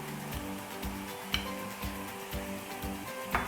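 Cumin seeds and onions frying in hot oil for rajma curry give a steady close sizzle, broken by regular scraping stirs and an occasional sharp clink of the spoon against the pan.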